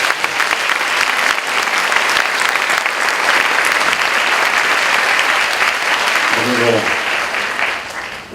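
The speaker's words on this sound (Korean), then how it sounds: "승리하신 우리 전진 전부님께 감사의 박수 한번 올려드립시다" An audience at a university Sunday worship service applauds loudly and steadily for about eight seconds, a dense wash of many hands clapping that tails off slightly at the end.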